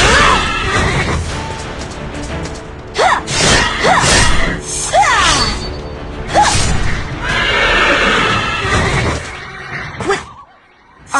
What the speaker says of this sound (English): They're not just horses. They're black unicorns.